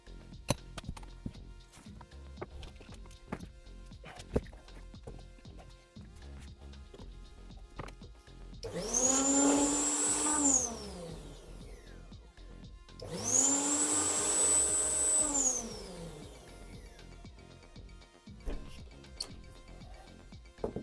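A repaired Greenworks GLM1232 electric lawn mower runs in two separate bursts, its motor whirring up loudly to a high whine and winding down each time, with quiet ticks and faint sounds between.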